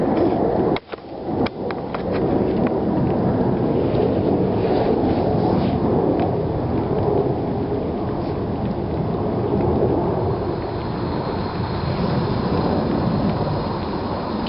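A homemade pulse jet engine runs with a loud, steady, rough roar that starts after a couple of sharp pops and carries on unbroken at full strength.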